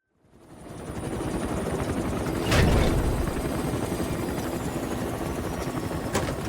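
Helicopter in flight in Metal Gear Solid V, a steady loud rotor and engine drone running throughout, with a brief louder whoosh near the middle and a sharp click toward the end.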